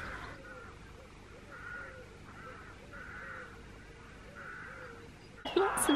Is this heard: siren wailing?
no